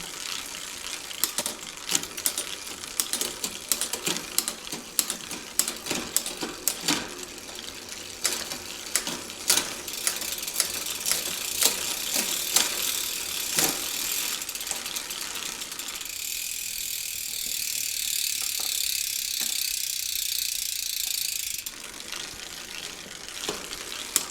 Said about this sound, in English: So I could just back off that low limit screw.